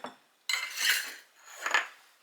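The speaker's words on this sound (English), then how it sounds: "Get that vanilla stirred in." Spoon scraping and clinking against a mixing bowl while homemade vanilla is stirred into apple pie batter, two short bursts of clattering strokes, close and clear with no talk.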